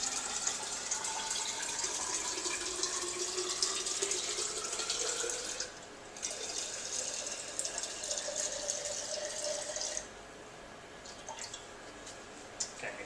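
Distilled water from a lab tank runs into a 1 litre flask, a steady close hiss of pouring with a rising pitch as the flask fills, stopping and restarting in shorter bursts toward the line.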